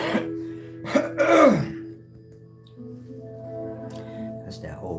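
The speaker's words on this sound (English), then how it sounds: "That's that old senior citizen cough" An elderly man clears his throat and coughs: a few rough, harsh bursts in the first two seconds, loud and close, then a quieter stretch with a low steady hum.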